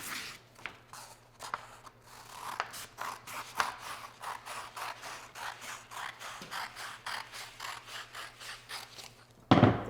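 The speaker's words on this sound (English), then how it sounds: "I'll cut along this line" Paper being cut with scissors along a drawn line, repeated snipping and rubbing strokes close by at a steady rhythm for most of the stretch, quiet overall with no talk, ending in a brief louder handling noise.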